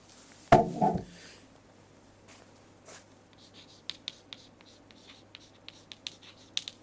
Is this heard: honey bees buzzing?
no